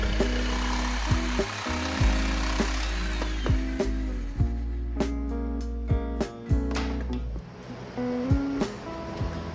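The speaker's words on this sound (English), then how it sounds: "I'll use my jigsaw to cut the shape" Jigsaw cutting a teak wood shelf, the blade buzzing in short bursts with pauses and restarts, close and loud, with no talking.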